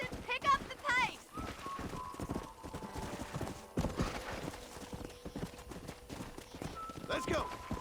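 Horse hooves clip-clop in a steady galloping rhythm in the Western video game Red Dead Redemption, loud and close, with a whinny and spoken game dialogue over the hoofbeats.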